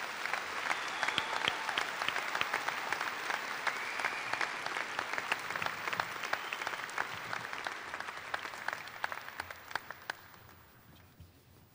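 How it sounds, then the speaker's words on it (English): An audience at a high school graduation applauds the graduating students with dense, steady clapping for several seconds, then gradually fades to scattered claps. "Let's give these students a well-deserved round of applause."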